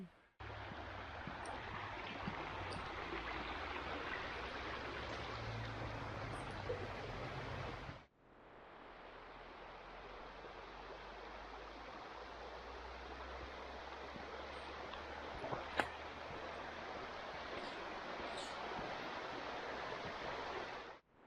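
River South Tyne water rushing steadily beneath a railway viaduct, a loud continuous broadband roar that drops briefly and resumes, with no talking.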